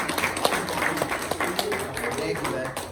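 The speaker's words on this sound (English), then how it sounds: "let's give Cole a big round of applause" An audience at a reptile education program applauds a young volunteer named Cole, a dense, steady patter of many hands that lasts throughout, with voices talking over it.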